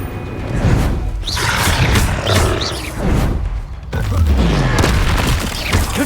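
Repeated blasting-spell explosions in Hogwarts Legacy, a series of loud booming bursts with rumbling low-end decay, arriving every second or so with roaring tails under continuous game effects.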